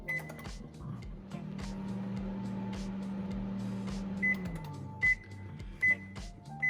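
Broccoli steaming in a microwave oven gives a steady low hum that runs for several seconds, stops, and is followed by a few short, bright beeps.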